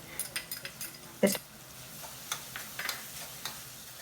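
Spatula stirring mushroom and chukka kura fry with fresh coriander in a nearly dry pan, a series of soft scrapes and clinks at an uneven pace, one sharper knock in the middle, fairly quiet and close.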